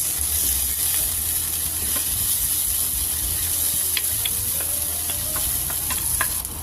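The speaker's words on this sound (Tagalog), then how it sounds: "Gawin na natin yung usual na pagigisa ng corned beef." Corned beef sautéed with garlic, onion and tomato for a caldereta-style dish gives a steady loud sizzle, with faint scattered ticks and clinks of stirring over it and no voices.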